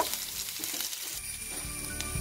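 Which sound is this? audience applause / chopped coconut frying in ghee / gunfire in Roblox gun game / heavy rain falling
chopped coconut frying in ghee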